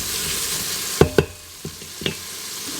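Onions sizzling in melted butter inside a heated Instant Pot, with a steady hiss broken by a few sharp clatters as they are tossed and stirred, close and fairly loud, no talking.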